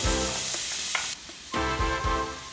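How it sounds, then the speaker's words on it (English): Diced onions hiss and crackle in hot olive oil in a pan over medium heat, a bright continuous sizzle that drops off briefly and then surges back with stirring. "add in your diced onions to a pan of olive oil and cook for about 5 minutes on a medium heat"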